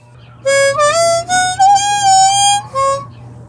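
A harmonica plays a riff, a run of reedy blow and draw notes with sliding, bending pitches, played solo and close over a faint steady low hum.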